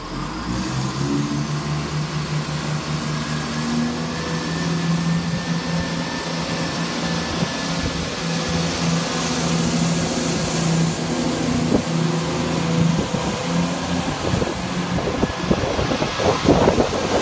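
Class 170 diesel multiple unit 170636 pulls away from Platform 2 at Hinckley, Leicestershire, its steady diesel drone and faint high whine building as it departs, with rougher rumbling near the end.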